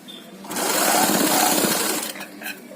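A sewing machine stitches a double-layer cloth face mask in one continuous run of rapid mechanical whirring lasting under two seconds, then stops.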